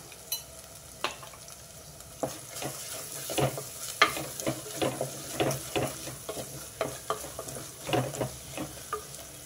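Onion sizzles gently in a pan with gongura leaves while a spoon stirs it through, giving irregular scraping taps over a steady soft crackle, close and fairly quiet.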